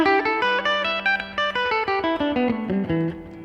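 Electric guitar plays a quick minor pentatonic surf lick, a fast run of picked notes descending in pitch over a held low note, close and loud with no talking.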